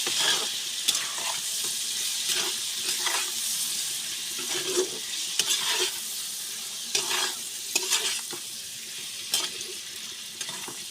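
Vegetables frying in oil in a pan while being stirred, with a steady sizzle under repeated spoon scrapes and clinks at an uneven rhythm, close by, with no voices.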